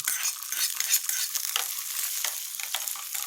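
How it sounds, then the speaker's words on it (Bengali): Chicken pieces are stirred through a yogurt and sugar mixture in a pot, producing soft wet squelching and scraping strokes under a light sizzling hiss, continuous and close. "আচ্ছা, আবার এটা আমি নাড়িয়ে নিলাম"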